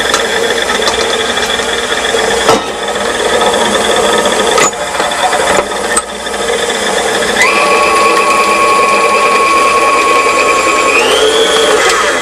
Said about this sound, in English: when you use a mixer, you need to stop it before it's all finished and scrape down the sides and scrape your beaters